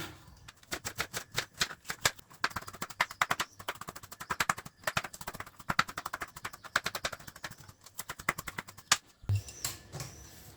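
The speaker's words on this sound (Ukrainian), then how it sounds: "нарізаємо цибульку маленькими, маленькими кубиками" A knife chopping onion into small cubes on a board: quick, sharp knocks in steady bursts with short pauses, close and crisp.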